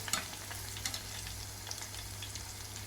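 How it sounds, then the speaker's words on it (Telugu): Prawns frying in hot oil for prawns 65 and being lifted out: a faint, continuous sizzle and bubbling hiss with light scattered crackles, steady from start to finish with no talking. "ఈ రొయ్యలు వేగిపోయినవి వాటిని తీసి"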